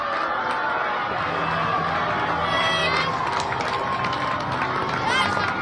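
Crowd at a women's cricket World Cup match between India and Australia cheering and applauding a boundary four, a steady broad roar of many voices that holds throughout with chatter mixed in.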